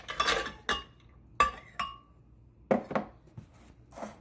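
Ice cubes and almond milk going into a smoothie clatter into the container with a handful of sharp glassy clinks and knocks, spaced irregularly over a few seconds with quiet gaps between them.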